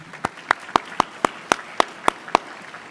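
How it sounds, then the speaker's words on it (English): Slow, single hand claps at an orchestra spring concert, about nine evenly spaced sharp slaps, fairly close, with no crowd joining in. "Give a clap."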